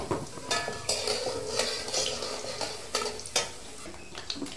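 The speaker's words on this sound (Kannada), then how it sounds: "ನೋಡಿ ಹಾಗೆ ಒಗ್ಗರಣೆ ಸಿಡಿಯಿತು." Mustard seeds with chopped Kumta chillies crackle and splutter in hot oil in a pan, close and loud, with a spoon stirring and scraping against the metal.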